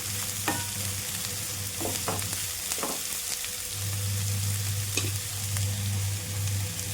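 Onions fry lightly in a pan for a samosa filling, giving a steady close sizzle. Spatula stirring scrapes break in at intervals, and there is no talk.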